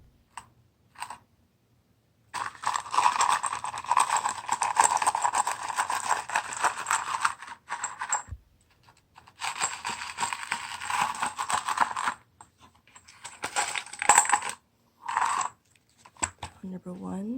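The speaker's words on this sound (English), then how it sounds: "for those of you guys who want the crystals, I'll be shuffling a few" Bursts of dense clattering and rattling of crystals being shuffled together, in several loud stretches separated by brief pauses.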